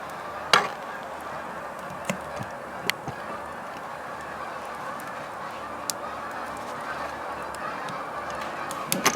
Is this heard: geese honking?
yes